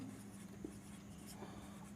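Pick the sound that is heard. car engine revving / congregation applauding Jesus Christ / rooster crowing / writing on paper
writing on paper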